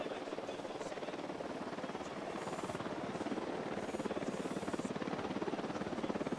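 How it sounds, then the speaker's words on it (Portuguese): Helicopter in the video game Ghost Recon Wildlands, a steady rapid rotor chop that stays fairly close and even in level throughout, with a faint high whine above it. "Helicóptero a caminho."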